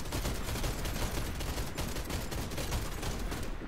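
Rapid, dense gunfire and explosive bursts from a video game firefight in Pripyat, loud and continuous for several seconds with no pause.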